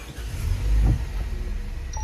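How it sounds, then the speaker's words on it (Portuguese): A branch shredder's large engine drones steadily without a break at moderate distance, with an even, throbbing idle. "vamos ligar o carro"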